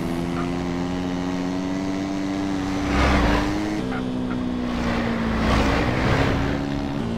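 A Honda PCX scooter engine runs close by with a steady humming drone, swelling briefly twice as the throttle is blipped before settling back.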